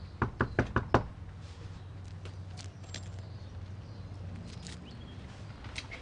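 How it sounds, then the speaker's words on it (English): Knocks on a house door: a quick series of five or six sharp raps at the start, then quiet room ambience with faint scattered sounds. "the things we say when we knock on someone's door"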